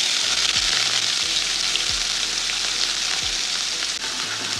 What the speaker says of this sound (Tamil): எண்ணெய் நல்லா சூடாயிருச்சு. வெங்காயம் போட்டுக்கலாம்.